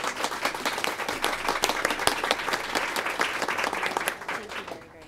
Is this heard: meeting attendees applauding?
yes